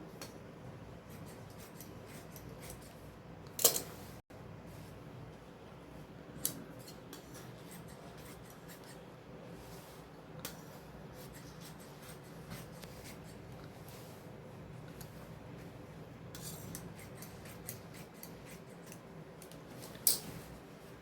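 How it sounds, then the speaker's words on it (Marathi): Scissors slice through saree fabric in quiet, scattered snips and slides, with a couple of sharper crisp cuts and faint rubbing of the cloth between them in a calm indoor room. "आता ह्या साडीतला कापड आपण सर्वात आधी आपण सरळ करू. सरळ कापून घ्यायचं आहे."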